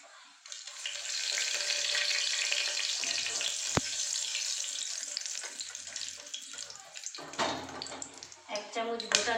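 Two cinnamon sticks and a bay leaf frying in hot oil for a Bengali aloo matar ghugni, a steady close sizzle with stirring clatter and brief water-like splashes near the end.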